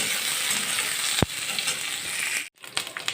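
Eggplant pieces sizzling in a pan of oil for bitter gourd curry, a continuous bright frying hiss with a sharp utensil knock midway and a brief pause as the pieces are turned.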